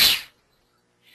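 A single sharp human sneeze bursts out close and loud at the start, then fades quickly into near silence before a faint sound at the end.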